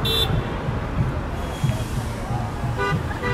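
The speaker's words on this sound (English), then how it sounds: "some of these guys need better horns" Several car horns honk in busy traffic near a demonstration at the Hawaii State Capitol, short toots overlapping with road noise and faint voices nearby.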